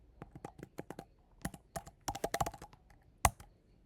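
Typing on a computer keyboard in a quiet room, a run of sharp, uneven key clicks with brief pauses and one louder final tap.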